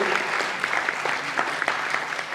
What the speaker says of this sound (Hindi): तो इनके लिए जोरदार तालियां हो जाए